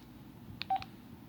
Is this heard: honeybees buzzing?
no